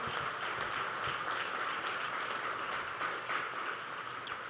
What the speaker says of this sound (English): let us give another round of applause to all of our honorees this evening